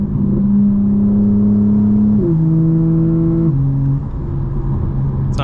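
A 2024 BMW M4 Competition engine droning loud and close from inside the cabin, its pitch stepping through gear changes under steady throttle, with a faint pop near the end.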